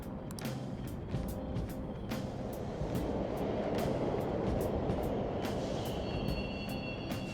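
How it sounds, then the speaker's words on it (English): A steady low rumble of subway trains running through a tunnel in the Persona game's Mementos, continuous and fairly loud, with occasional metallic clicks and squeals. "The trains are totally running."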